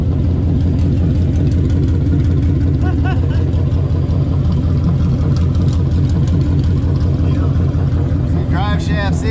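A sleeper Foxbody Mustang engine with open headers idles up close, a loud, steady, rumbling and throbbing burble that never lets up.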